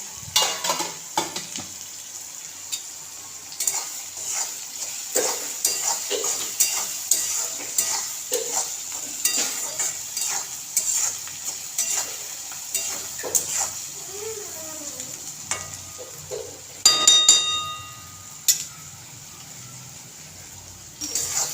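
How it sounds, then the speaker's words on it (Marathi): Onions frying in a pan for upma and being stirred now and then, a steady crackling sizzle broken by repeated scrapes and clinks of a spoon against the pan, with a louder burst of scraping late on. "कांदा सारखा हलवत राहायचा अधूनमधून."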